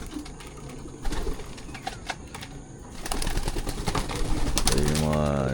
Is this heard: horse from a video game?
no